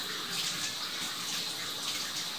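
Water runs steadily from a tap for rinsing during cooking, a constant close hiss and splash with no breaks and no voices.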